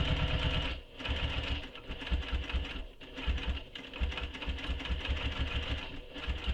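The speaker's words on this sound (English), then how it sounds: "I just stitched right over it again." A sewing machine stitches along the bottom of a handmade satchel, running in a steady fast rattling drone with a brief pause near the start and another short dip midway, close and fairly loud.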